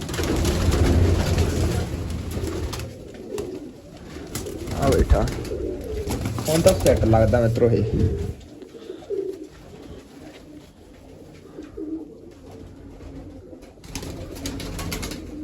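Pigeons coo in soft, low repeated calls close by at a pigeon loft, partly under someone speaking nearby, with quieter stretches between bursts of calls and talk.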